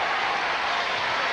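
A crowd cheering and applauding in a basketball arena during a Rutgers at Villanova men's college game, a dense, steady roar filling the space.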